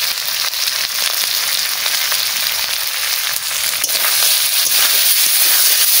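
Whole fish cooking in a pan with spices and a splash of water, giving a steady, loud, close sizzle and frying hiss that runs unbroken from start to end.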